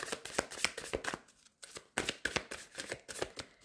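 Cards shuffled for a new-moon card reading, a brisk rhythmic series of papery flicks and riffles with a brief pause in the middle, close and clear, with no voice.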